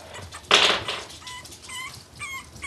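A puppy whimpers and yips in short bursts, with one louder bark-like cry up front followed by thin, high whines trailing off, close by and without talk.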